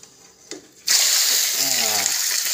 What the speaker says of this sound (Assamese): তেল দিলোঁ তেল উতলি গ'ল এতিয়া মাংসখিনি দিম